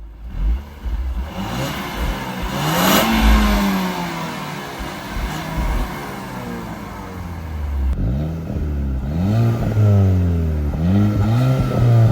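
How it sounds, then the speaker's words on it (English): A Volkswagen Eos engine with its stock exhaust idles, then revs up and down repeatedly, rising and falling in pitch, close by with a steady throaty exhaust note. "this is how it sounds with the stock exhaust"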